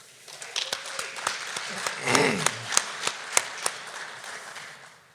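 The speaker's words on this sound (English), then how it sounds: "So please join me in giving a round of applause for Wade Betchart and West Plains for sponsoring our speaker here today." Scattered applause from a meeting audience honoring a sponsor at an annual luncheon event, sparse individual claps ringing out with a brief murmur of voices in the middle, fairly quiet and thinning toward the end.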